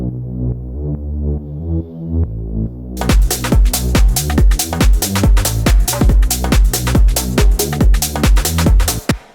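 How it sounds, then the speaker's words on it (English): Serum synth preset named respace playing a tonal pad-like line that bursts into a loud, rhythmic pumping pattern with sharp repeated attacks after a soft sustained opening. "this respace is just this Serum preset here"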